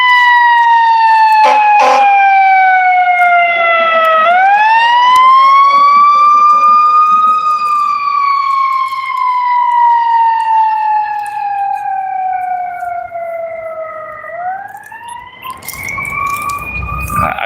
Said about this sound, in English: I'm sorry I had to plug my ears there when the ambulance went by.